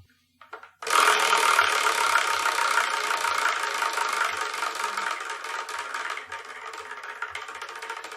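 A prize wheel spins with a fast, steady clatter of rattling ticks that start abruptly and slowly thin out as it coasts, close and clear with no talking.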